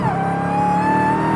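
An 807-horsepower Dodge Charger Jailbreak roars loudly and steadily near the microphone, its engine note rising slightly as it revs, with the sound echoing off a nearby bus.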